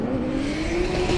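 Drift car on a kart track during a drift school competition, engine droning steadily at high revs with a sustained rising tone and faint tire noise, continuous and fairly close throughout.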